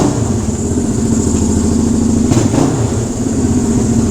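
A 1974 Honda CL360 motorcycle engine runs steadily after a kick start, a close, loud, even mid-pitched idle with one brief blip partway through and no talking.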